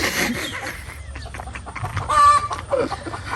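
Chickens in a coop cluck and squawk in a close, busy cluster of short calls, one louder burst standing out among the chatter, with no talking.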